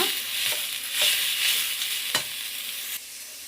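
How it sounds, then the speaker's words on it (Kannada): Tomato frying in a pan, with a steady close sizzle broken by a few sharp scrapes and knocks of stirring, and no voices. "ಅದನ್ನು ಹಾಕಿ ಸ್ವಲ್ಪ ಟೊಮೊಟೊ ಮೆತ್ತದಾಗೋವರೆಗೂ ಫ್ರೈ ಮಾಡ್ಕೊಳ್ಳೋಣ"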